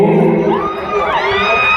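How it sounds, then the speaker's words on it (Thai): A mor lam concert crowd cheers and whoops loudly to welcome a guest artist, a dense close roar of voices with rising shouts and sustained tones throughout. "เสียงปรบมือต้อนรับ"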